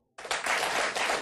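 A television studio audience bursts into applause and clapping, a dense sustained roar of many hands that starts abruptly and holds steady and loud, with no talking.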